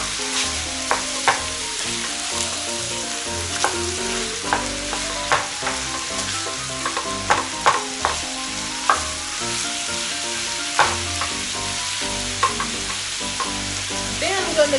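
Pork pieces fry in a pan with steady, close sizzling and crackling while fat spits, broken by sharper clatter and scraping as the meat is turned. Soft musical tones play underneath throughout, and no voices are heard.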